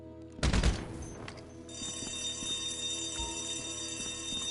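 In the game GTA, a loud gunshot hits an alarm bell during a heist, with a single sharp blast followed by a ringing, sustained bell tone that continues steadily.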